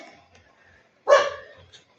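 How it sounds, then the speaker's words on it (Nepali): One sharp dog bark, close and fairly loud, heard alone after a stretch of near-silence and followed by a faint short yip. "भुक कुकुर भुक।"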